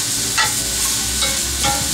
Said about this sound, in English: We're going to saute that for probably 2 to 3 minutes